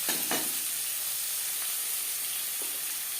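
Chopped onions frying in a pan for a fish curry, a steady bright hiss of sizzling with a few brief stirring crackles near the start, close and continuous with no one talking.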